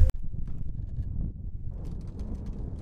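Gusty wind buffeting a microphone on a breezy day at Miami Beach, low rumbling roar that rises and falls with a few faint clicks, no speech.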